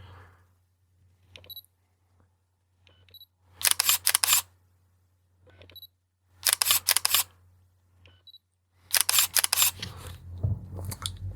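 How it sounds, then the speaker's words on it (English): Faint whirring and soft clicks of a Canon EF 40mm f/2.8 pancake lens focusing, followed by three bursts of rapid shutter clatter, quiet between them with a low background hum. "you can compare the sound of the focusing with the shutter firing"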